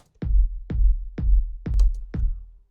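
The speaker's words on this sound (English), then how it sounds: "And this is the kick in full effect" Kick drum sample from a Toolroom Academy pack for a Tomorrowland-style house track: five punchy, deep thumps in a steady four-on-the-floor pulse, each with a quick click and decaying boom, loud and alone.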